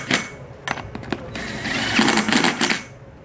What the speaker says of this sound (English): And then you'll tighten it up.